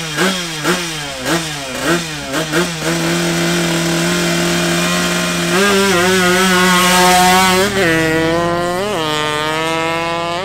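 Two motorcycles, a Yamaha RX and a Honda Africa Twin CRF 1100L, launch in a drag race with sharp rising revs and rapid gear shifts, then hold a loud sustained engine howl close by, with no talking.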